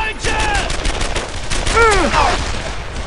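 Dense, continuous World War II gunfire and rattling automatic bursts fill a Brothers in Arms: Earned in Blood battle, with voices and groans briefly rising beneath the shooting.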